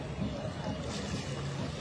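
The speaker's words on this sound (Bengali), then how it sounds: "এদিকে নৌকা চলে আসছে।" A boat moves along a river, its low engine rumble and water wash steady and close throughout, with faint background voices.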